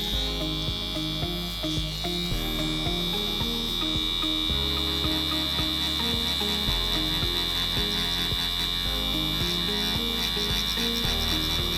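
A tattoo machine fitted with a liner, used for shading, buzzes in a steady, continuous electric drone throughout, close and loud, with layered tonal hum beneath it.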